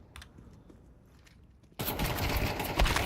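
Pistol gunfire in Counter-Strike 2 during a competitive collegiate match: a few faint shots and footsteps at first, then a sudden dense burst of rapid, loud overlapping gunfire that keeps going.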